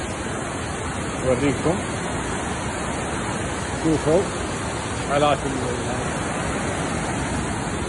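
A river rushes steadily near a riverside lodging in Ayder, northern Turkey, a constant loud broadband roar with a voice speaking briefly over it.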